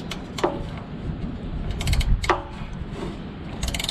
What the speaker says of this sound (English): Got a 10 millimeter wrench here. I'm just gonna loosen this nut, see what happens.